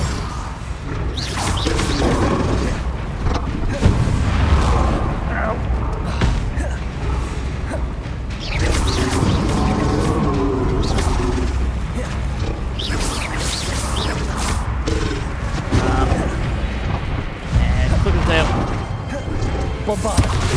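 Bombarda spell blasts and combat effects from Hogwarts Legacy crash and boom repeatedly in a dense, loud jumble of whooshes and impacts, with a voice speaking intermittently over the action.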